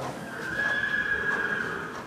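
Horse neighing at a dressage riding session, one long sustained whinny held for about a second over steady background noise, moderately near, with no talk.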